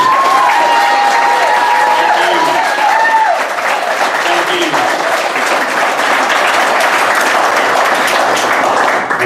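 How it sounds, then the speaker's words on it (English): Loud crowd applause with whoops and cheers for Mayor Walt Maddox, a gubernatorial candidate, at a campaign rally in Anniston, Alabama; a sustained roar of clapping with shouted voices rising over it early on. "huge round of applause."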